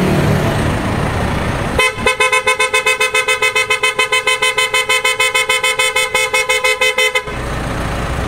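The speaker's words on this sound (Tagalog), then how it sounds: "pakinggan natin yung tunog ng auto style horn na na-install namin." A PIAA auto-style horn installed on a 2024 Mitsubishi Strada pickup blares in a rapid pulsing pattern for about five seconds, loud and close, preceded and followed by ambient noise.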